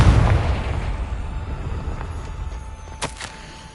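A Confringo fire spell explodes in Hogwarts Legacy with a deep, booming blast at the start that rumbles and fades, followed by a couple of brief sharp pops.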